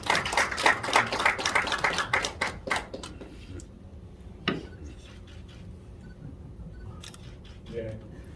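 Audience applause at a Korean peace medal award ceremony held in a Gangnam hotel hall, a burst of scattered, fairly faint hand claps that thins out into occasional claps while a voice continues.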